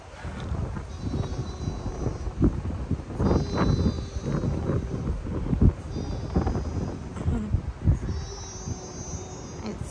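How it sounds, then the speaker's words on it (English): Strong wind buffeting the microphone outdoors at an RV during a storm with tornado warnings, a steady roaring gusty rush that swells and dips across the whole stretch, with faint thunder-like rumbles underneath. "So windy."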